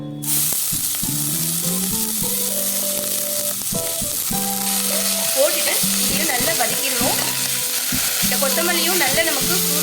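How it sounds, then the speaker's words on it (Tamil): Fresh coriander leaves sauté in hot oil for a green thogayal, giving a loud, continuous sizzle with the clink of stirring over background music. "இப்போ நான் வந்து இருக்கிற எண்ணெயிலேயே இந்த கொத்தமல்லியும் போட்டு நல்லா வதக்கிடலாம்"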